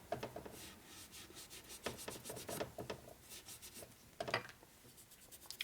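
Cloth rubbing and wiping oil off the rod of a 1941 Harley-Davidson WLD 45 flathead stroker motor during a build, giving soft, close scrubbing strokes in short bursts with brief pauses between.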